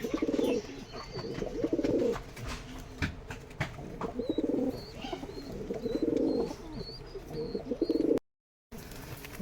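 Rajshahi Giribaz and Pakistani breed pigeons cooing close by in repeated rolling bursts, with a few faint higher chirps over a quiet background and no speech.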